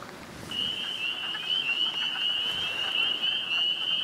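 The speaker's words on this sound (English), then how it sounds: "If you listen off in the distance, you can hear peepers." A steady high trill of distant frogs calls continuously from wetland in Connecticut, over a soft outdoor background hiss with no talking.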